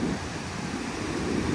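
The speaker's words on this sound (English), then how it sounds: "Quite strong wind still. Waves up to a couple of metres." Strong wind and surf on a shore after an overnight windstorm, with waves up to a couple of metres, as a steady, close, roaring wash of wind noise and breaking water with no clear pauses.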